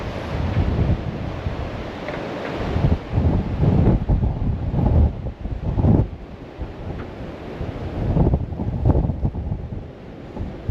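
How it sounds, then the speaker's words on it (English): Strong March blizzard wind roars and buffets outdoors near a shop, loud and continuous with gusty surges and heavy rumble against the microphone, with no voices heard. "So windy. Takes your breath away."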